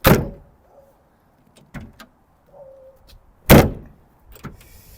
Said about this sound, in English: The door's not going to close right, of course.